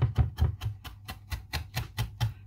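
Garlic being finely chopped with a knife on a cutting board: a steady series of about a dozen quick, crisp taps in an even rhythm, close and alone without talk.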